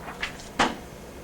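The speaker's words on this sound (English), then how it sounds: "Can you shut the door?" A door is shut indoors during a talk on pen-based computers, with a couple of light knocks and then one firm close near the middle, followed by quiet room tone.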